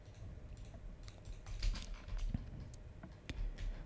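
Quiet keystrokes on a computer keyboard, a few soft scattered taps over a low background hum.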